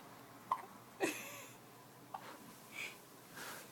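Faint baby hiccups, about four or five soft, short hics spaced roughly half a second to a second apart, close up in a quiet indoor room with light breathing between them.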